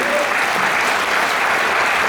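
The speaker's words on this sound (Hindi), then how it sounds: "जोरदार तालियां दी" Steady, dense applause from a large crowd fills the whole stretch, loud and continuous without pauses.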